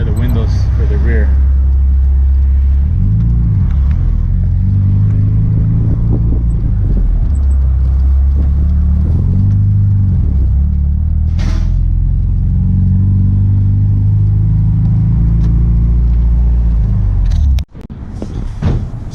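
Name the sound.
Honda EG hatchback with H2B engine running while pulling in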